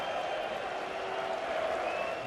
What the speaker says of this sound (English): Wilson gets another cheer for a simple pickup